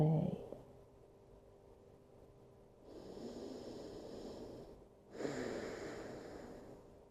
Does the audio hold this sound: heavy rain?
no